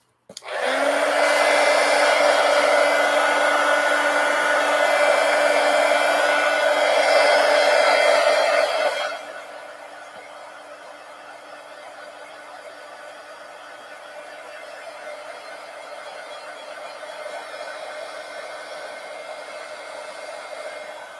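A hair dryer blows on a paper collage, a loud steady whir for about eight seconds that then drops to a quieter lower setting for the rest.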